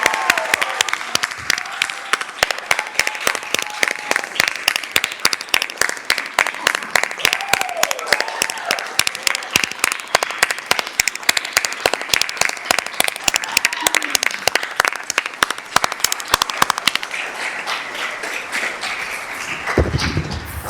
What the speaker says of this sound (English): give a warm round of applause for these